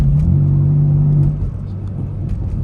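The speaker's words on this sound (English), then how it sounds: "you can probably hear the car more" A BMW M4 F82 engine in Sport Plus mode gives a loud, low rumbling drone from inside the car, steady at first, then easing slightly and continuing at a lower level.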